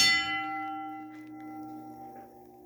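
A gold mine hoist signal bell is struck once, a loud metallic clang that rings on with a long, slowly fading tone, with no voices over it.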